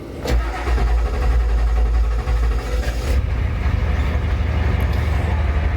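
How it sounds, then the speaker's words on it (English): A heavy 1990 Ford F Super Duty diesel engine starts and runs with a deep, steady rumble, loud and close, with no talking. "let's try running the engine"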